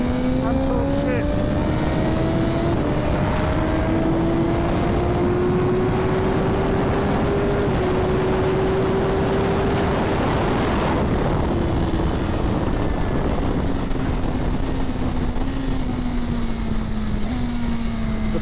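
A 2025 BMW S1000RR superbike ridden on the Almeria track, its engine a loud continuous close roar with a rising and falling tone as revs climb and ease through the gears, with wind rush throughout.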